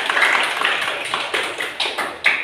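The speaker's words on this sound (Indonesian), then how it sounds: "Tepuk tangan untuk kalian semua" A classroom of children clapping together in a dense, steady burst of hand claps that swells and fades in several waves over a couple of seconds, fairly close and without speech.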